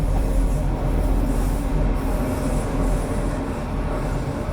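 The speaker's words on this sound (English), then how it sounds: "There goes the train." A train rumbles past close by near canal tunnels, wheels clattering and squealing over the rails in a continuous heavy roar.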